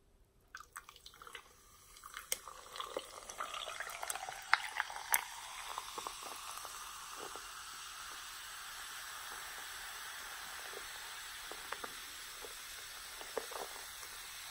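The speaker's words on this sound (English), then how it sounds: "Got the nice frosty mug, and we're gonna see how this pours in here." Red cream soda pours into a frosty mug with an initial splash, then settles into a steady fizzing hiss of carbonation that carries on for several seconds. A few small pops and crackles rise from the foam, faint and close, with no one talking.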